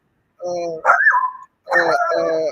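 Dogs let out two drawn-out, tonal bark-howls, each about a second long with a short pause between, fairly close and clear against a quiet background.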